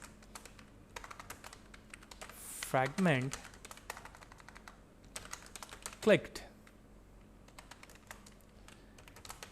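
Typing code on a computer keyboard during an Android programming tutorial, with rapid clustered key clicks throughout, close and moderately loud, while someone talks at times over the keystrokes.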